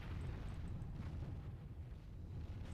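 Mortar fire in a real-time strategy tournament match comes as a continuous low, rumbling explosive roar, muffled and sustained with faint higher pops, no voices.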